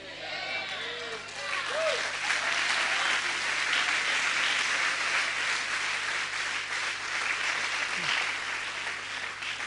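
A church congregation applauds steadily for nearly ten seconds, a dense wash of clapping that swells early and holds, with a few faint voices mixed in.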